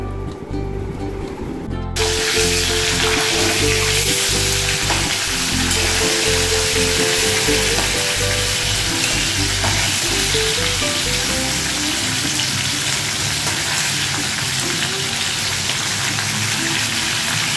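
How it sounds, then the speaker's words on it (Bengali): Hilsa fish pieces rubbed with salt and turmeric fry in hot oil, giving a loud, dense, continuous sizzle and crackle that starts abruptly and holds steady throughout with no talking. "নুন হলুদ দিয়ে মাখা ইলিশ মাছ অল্প ভাজবো"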